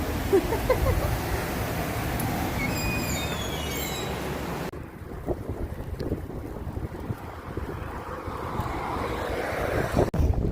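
Wind buffets the microphone with a constant low rumble. A faint, high whistling is heard early on, and the gusts ease slightly partway through.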